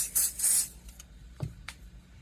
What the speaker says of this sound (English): More spray.